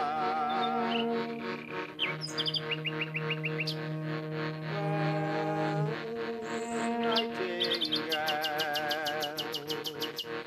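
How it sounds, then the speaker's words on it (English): Bright whistling and trilling nightingale song with rapid repeated notes and sweeping phrases, fairly close and continuous, against a steady background drone. "Nightingales, they do sing."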